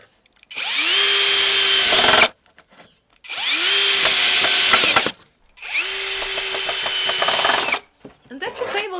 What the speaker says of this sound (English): I'm going to mark where I need to drill the holes to attach the leg to the frame.